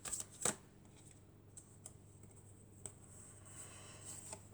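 Tarot cards shuffled and drawn during a card reading, with a sharp riffle burst near the start followed by quieter soft slides and light taps of cards being laid down, close and faint with no talking.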